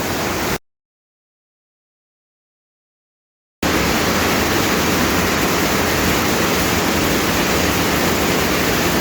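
Waterfall roars in heavy rain as a dense, steady broadband rush, loud and continuous, broken by a sudden stretch of total silence near the start before the roar resumes.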